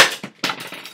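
Several wooden shoe trees clatter onto a floor in a quick burst: a sharp first knock followed by a few rapid bouncing impacts, close and fairly loud, with no talking.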